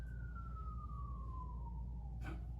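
A single siren tone glides slowly downward over a steady low rumble of traffic, with a brief burst of noise near the end.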